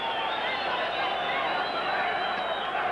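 A boxing arena crowd at a WBC featherweight title fight between Espinosa and Ramirez rumbles with steady, dense noise throughout, a continuous roar with no clear peaks.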